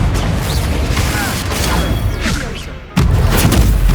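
Confringo blasting-spell explosions in the Hogwarts Legacy video game: heavy booms and crashing impacts in quick succession, with a sharp, loud blast near the end and voices shouting over the action.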